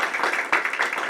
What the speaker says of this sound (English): Let's have a little round of applause for Angelina.